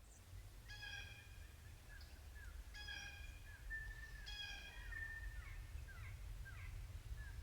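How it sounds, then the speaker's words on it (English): Several jays call in a quiet woodland in Harriman State Park, with three bursts of harsh, stacked calls spaced a few seconds apart over a steady low rumble, followed by scattered fainter call notes. "Quite a few jays around."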